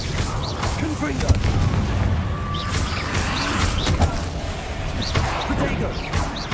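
Spell-casting explosions in Hogwarts Legacy, a steady barrage of booming blasts, cracks and whooshes layered over a dense game soundscape, with a voice calling out over the action.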